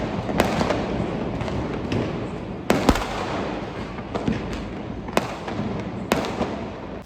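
Diwali fireworks and firecrackers go off outside: sharp bangs burst every second or so, some louder and nearer, over a constant distant crackle and rumble of more explosions.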